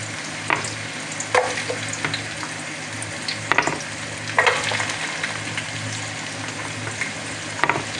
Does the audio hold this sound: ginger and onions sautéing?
yes